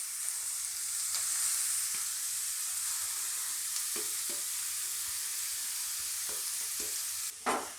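Carrot fries in leftover ghee, giving a soft continuous sizzle broken by scraping stirs and a louder clatter near the end.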